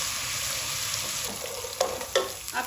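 A spoonful of ginger garlic paste sizzles in a pan with carom seeds, a steady close hiss broken by a few sharp spoon scrapes and taps toward the end, with no speech.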